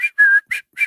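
A person whistles a short call in imitation of a father's morning whistle: four quick, clear, high notes with a longer sustained tone second, loud and close with no talking.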